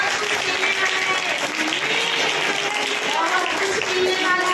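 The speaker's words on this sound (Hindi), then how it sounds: "ताली बजाओ परमेश्वर के लिए।" A church congregation at a Hindi-language sermon applauds in a continuous, dense wash of clapping that holds steady throughout, with voices mixed in beneath it.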